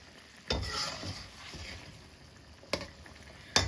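Chicken feet braising in a dark sauce over medium heat, a quiet low simmering sizzle broken by a few sharp clinks of a utensil against the pot.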